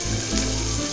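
Chopped garlic sizzles in oil in a frying pan, a brief, dense, close hiss with no voices.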